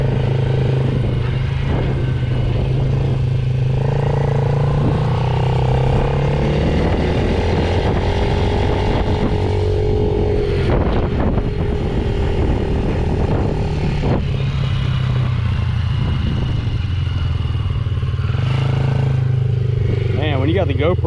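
The small single-cylinder engine of a Yamaha TTR50 dirt bike idles loudly and steadily close by after its idle screw is adjusted, with a brief rise and fall in revs partway through and some talking in the background.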